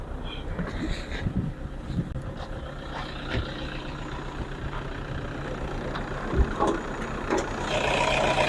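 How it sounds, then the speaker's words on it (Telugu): Toyota Innova 2.4 G4 diesel engine idling, a steady low rumble with some intermittent clicks and knocks, fairly loud and close, with faint background noise. "ఇంజన్ రన్నింగ్లో ఉంది, చాలా స్మూత్ ఉంది ఇంజన్ కూడా"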